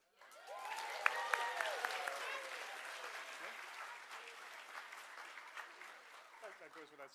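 Audience applause fills a hall at an awards ceremony for horror writing, a steady wash of many hands clapping that swells quickly, holds, then slowly thins out, with a voice briefly audible near the end.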